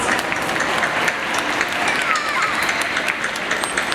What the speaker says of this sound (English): give Allie another great big round of applause